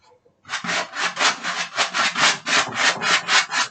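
Rhythmic scraping strokes of a brush over a canvas with rough, textured gesso, about a dozen back-and-forth passes in steady succession, close and fairly loud.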